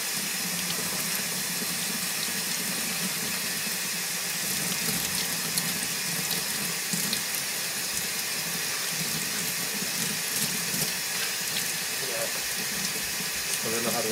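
Hot water runs steadily from a tap into a sink, a continuous close hiss and splash that fills the whole stretch without a break.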